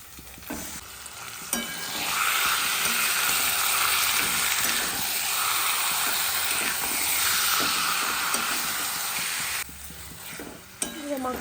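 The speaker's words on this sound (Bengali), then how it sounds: "মশলাটা প্রায় কষানো হয়ে গেছে, এবার এই মাংসটা দিয়ে দেবো।" Mutton with a browned spice paste sizzling and frying in a pan, a steady broadband hiss with occasional stirring scrapes and clicks, loud and close, easing off near the end.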